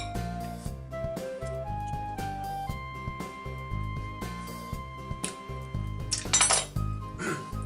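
A spoon scrapes and clinks as avocado cubes are scooped into a bowl for guacamole, light clatters scattered over steady background music, with a brighter burst of clinking near the end.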